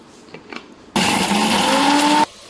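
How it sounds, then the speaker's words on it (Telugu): Mixer grinder whirring loudly as it grinds dry coconut and poppy seeds, a single steady burst of just over a second that starts and stops abruptly after quiet handling noises. "ఎండు కొబ్బరి గసగసాలు మిక్సీ పట్టాలి."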